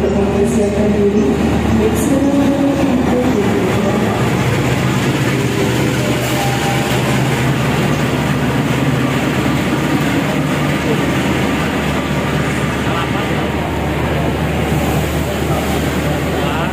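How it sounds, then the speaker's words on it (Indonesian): The Argo Wilis passenger train rolls into Surabaya Gubeng station on track 6 with a sustained low rumble and hum that holds steady throughout, while station ambience and voices run under it. "kereta api Argo Wilis sudah masuk stasiun Surabaya Gubeng di jalur 6"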